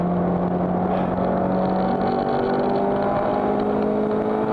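A race car engine at Silverstone holds a steady, loud, buzzing drone short of full throttle, its pitch slowly climbing as it rounds a long curve.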